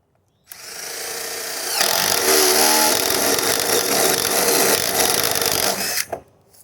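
Power drill with a paddle bit boring through a plastic compost barrel, a steady loud motor whine that rises as the bit bites in and runs continuously for several seconds before cutting off.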